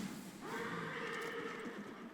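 A horse in the action game Darksiders Genesis lets out a single whinny lasting over a second, moderately loud against a faint game background, with no talking.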